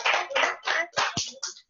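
A handful of people clap in short, uneven bursts, a few distinct close claps with gaps between them, sounding like a small group rather than a full audience.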